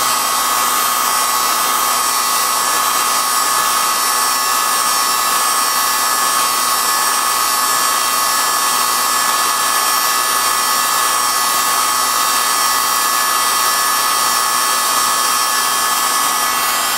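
A hot air rework nozzle blows steadily over a circuit board held a few inches away, giving a loud, continuous whooshing hiss with a faint whine that runs unbroken from start to finish.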